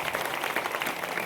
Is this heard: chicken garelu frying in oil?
no